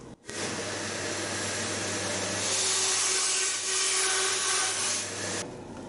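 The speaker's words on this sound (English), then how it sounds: "Onto the bandsaw, and I've got a brand new blade in this installed today" A bandsaw fitted with a brand-new blade runs steadily while cutting small metal wingtip clips for a 1917 Sopwith Camel, a constant whirring hum with a rasping cut that swells in the middle before the machine stops.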